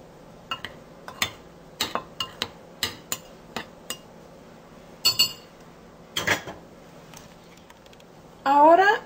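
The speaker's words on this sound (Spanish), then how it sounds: "Ahora vamos a revolver la harina con el polvo para hornear. Y lo batimos muy bien." Flour and baking powder are mixed in a bowl, with scattered sharp clinks and taps of a utensil against the bowl in an uneven rhythm. Someone speaks briefly at the end.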